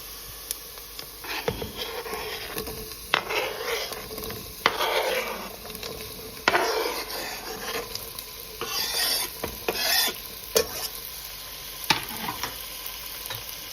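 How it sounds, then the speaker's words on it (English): Onion, potatoes and carrots sauté in a soup pot, with a low sizzle under irregular scraping and rasping stir strokes and a few sharp knocks of the spoon against the metal, and no one speaks. "let's go ahead and add the potatoes and the carrots."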